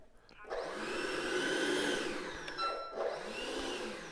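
The 64 mm electric ducted fan of an FMS Futura RC jet whines steadily at forward thrust, a close airy roar that swells, dips briefly and spins back up, with a faint high tone riding above it.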